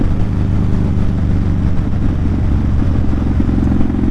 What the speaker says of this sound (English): I haven't heard this bike in like a week.